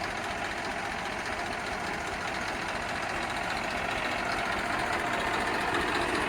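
A Massey Ferguson tractor engine idles continuously with a low, rumbling drone and even texture, nearby and unchanging, with no voices.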